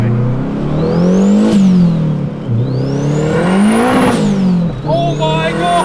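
A turbocharged K24 K-swapped Honda Civic EK accelerates hard, engine note climbing through rising pulls with gear changes between them, a high whine sweeping upward each time, heard from inside the car and loud.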